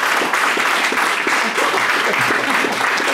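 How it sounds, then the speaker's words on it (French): An audience at a round-table discussion applauds continuously and fairly loudly, a dense even wash of many hands clapping for about three seconds. "nous les applaudissons"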